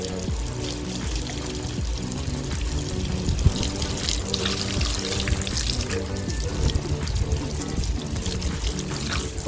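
Water poured over a Taiwan waru bonsai, a steady splashing and trickling onto foliage and soil that runs continuously at close range, with no talking.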